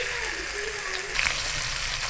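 Garlic-ginger paste hitting hot oil with browning onions in a pan, giving a steady close sizzle and spatter.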